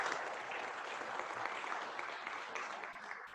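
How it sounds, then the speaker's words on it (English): Sustained audience applause fills a room at a community meeting, a dense steady patter of many hands clapping at moderate distance with no voices over it. "let's give him a round of applause"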